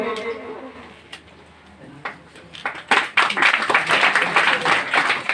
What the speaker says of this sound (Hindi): जोरदार तालियों से स्वागत कीजिएगा।